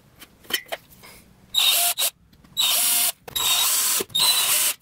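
A power drill bores small holes in a brushed oak JYSK EJERSTED wardrobe door, running in four close, loud whirring bursts of about half a second each, separated by short quiet gaps and faint handling clicks.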